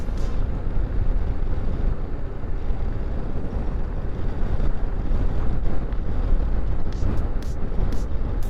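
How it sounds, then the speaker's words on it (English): Wind buffets a car during a ride home on a windy day, a loud, steady low roar of rushing air and road noise with occasional gusts and faint clicks near the end. "Definitely windier over here than it was"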